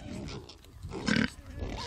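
A domestic pig gives a short grunt that rises to one louder, throaty burst near the middle. Low background sound fills the rest of the brief moment.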